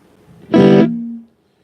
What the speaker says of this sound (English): And now we hear the guitar